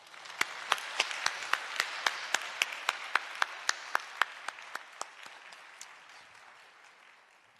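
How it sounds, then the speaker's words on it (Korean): Church congregation claps in welcome during a Sunday service, a soft, distant wash of applause with sharp, evenly spaced single claps punctuating it like a rhythmic beat, gradually tapering off. "나오실 때 박수로 맞이해 주시기"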